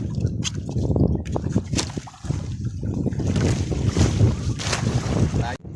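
Strong wind buffets the microphone and waves slap around a small fishing boat at sea, a loud continuous roar with rising gusts and no clear speech.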